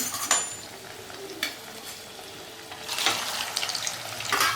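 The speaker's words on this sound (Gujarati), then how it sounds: "તો અહીંયા મેં તળવા માટે ગરમ તેલ મૂક્યું છે" Hot oil sizzles and crackles steadily at close range as leftover-rice fritter balls fry, with a few sharper pops and a louder burst of spitting near the end.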